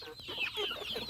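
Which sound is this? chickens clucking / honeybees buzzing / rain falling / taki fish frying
chickens clucking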